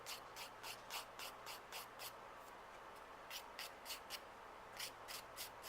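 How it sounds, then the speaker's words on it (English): Nail surface being buffed by hand, a quiet, rhythmic series of short, brisk rubbing strokes repeating in quick bursts with brief pauses, close up and alone. "I am buffing up the surface of my nails too."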